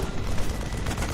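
Auto turrets firing in a video game: a dense, continuous barrage of rapid gunfire, loud and steady throughout with no voices.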